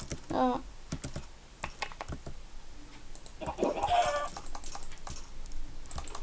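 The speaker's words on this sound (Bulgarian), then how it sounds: "Кокошка да я убиеме." A chicken in a PvP video game clucks a few times over a steady clatter of keyboard typing and mouse clicks, close and fairly loud.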